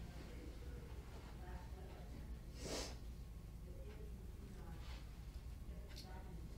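A single short sneeze bursts out during a housing partnership meeting in a room with a steady background hum, brief and moderately loud against faint murmuring.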